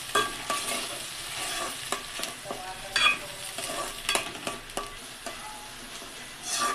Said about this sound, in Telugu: వేడెక్కిన తర్వాత బాగా కలుపుకోవాలి.